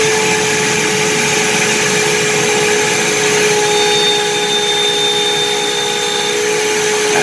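A workshop machine running after its start button is pressed, a loud steady motor whine with a strong constant tone and a broad airy roar, unchanging throughout with no talking.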